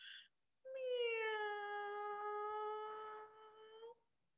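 A kitten gives one drawn-out, high, wavering meow, near and fairly faint, with a short breathy sound just before it in an otherwise quiet room.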